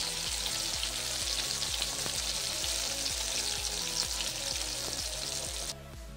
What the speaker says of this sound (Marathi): आपल्याला या वड्या मीडियम फ्लेमवर छान खरपूस अशा तळून घ्यायच्या आहेत.